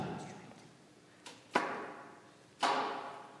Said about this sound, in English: There's a thing called a tongue slap.